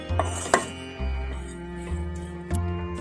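A spatula stirs chicken momo filling in a pan, giving a few sharp scraping knocks against the metal amid soft sizzling and clatter, close by and with no talk.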